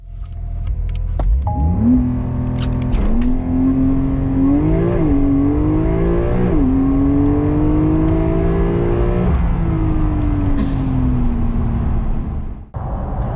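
A Porsche 911 Carrera 4S Convertible, all-wheel drive, launching hard from standstill to 100 km/h: the engine note climbs loudly through rising revs with quick gear changes, then settles into a sustained high drone before cutting off near the end.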